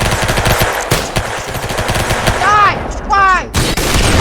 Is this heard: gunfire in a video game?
yes